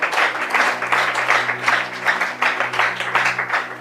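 A church audience applauds during a French-language Bible teaching on Exodus and Passover, a dense close burst of many hands clapping under a steady low hum, with faint voices mixed in.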